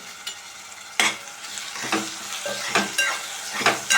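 Chopped tomatoes fry over a high gas flame in a pan for a spicy Maharashtrian misal, giving a bright continuous sizzle broken by several sharp scraping stirs of a spoon at irregular intervals, close and fairly loud.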